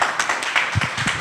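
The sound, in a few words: audience clapping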